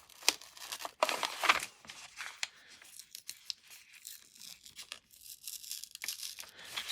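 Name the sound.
peeling a paper label off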